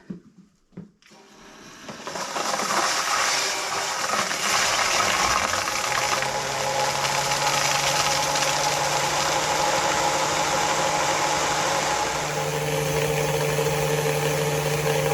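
A micro hydro turbine generator runs at 36 volts with a dense, continuous rushing whir over a low steady hum after a few knocks at startup, loud and close and holding at an even level throughout, with no talking.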